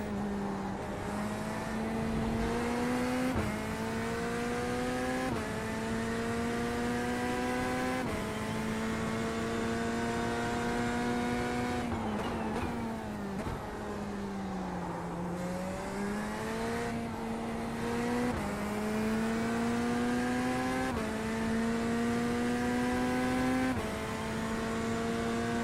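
A Ferrari race car engine in the sim racing game iRacing drones loud and steady throughout, its pitch climbing with each upshift and dipping under braking, with no talk over it.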